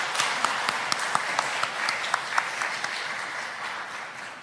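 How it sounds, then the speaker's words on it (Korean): A church congregation at a district revival gathering applauding in thanks, a dense, steady patter of many hands clapping in a reverberant hall, moderately loud and sustained, with no speech over it. "우리 박수로 감사의 마음 표현하겠습니다"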